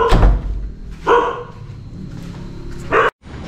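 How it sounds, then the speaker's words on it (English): A dog barks nearby in three sharp, loud bursts separated by pauses, with quiet background and no talking. "I love that dog."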